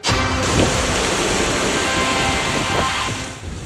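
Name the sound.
heavy rain and wind from Tropical Storm Hilary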